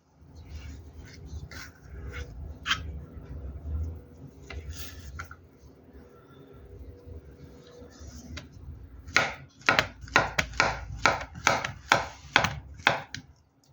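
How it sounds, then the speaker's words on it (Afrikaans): A knife slices peeled bananas on a board, first with scattered soft cuts, then a quick, steady run of sharp taps near the end. "Nou gaan ons die piesangs skil en in skywe sny."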